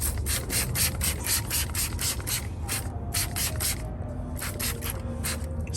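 Wheel brightener is sprayed onto a dirty car wheel from a trigger bottle, a quick series of sharp, evenly spaced hissing squirts heard close up, with a brief pause partway through.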